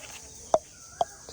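A chicken gives two short, sharp clucks about half a second apart, then a fainter third, close by against a quiet background.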